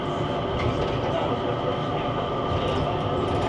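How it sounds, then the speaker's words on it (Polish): Driverless automated train shuttling between Singapore airport terminals, heard from on board as a steady, close rolling rumble with a constant hum and faint rattles throughout. "Pomiędzy terminalami poruszamy się pociągami, które nie mają maszynisty."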